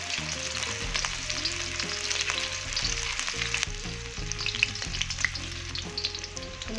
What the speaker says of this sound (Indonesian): Kita tumis sampai mengharum.